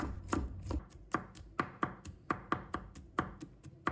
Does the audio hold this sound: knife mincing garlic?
yes